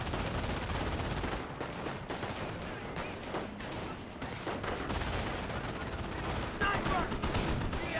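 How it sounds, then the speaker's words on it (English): Greyhound armored car firing in the game Company of Heroes, with dense, continuous bursts of gunfire that blend into a loud battle din for the whole stretch. "We do have the Greyhound firing away."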